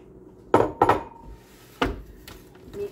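Condensed soup dumped into a pot during meal prep, a few sharp clunks and scrapes of metal and a spoon against the pot, with quiet pauses between knocks.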